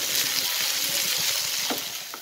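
Beef dry-frying in a pan as its water cooks off, giving a steady close sizzle with soft scraping stir strokes through it.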